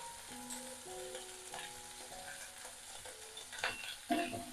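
Onion and cut brinjal sizzle and fry in a pan with turmeric as a South Indian curry is cooked. A soft, steady crackle runs under occasional stirring scrapes, quiet and close.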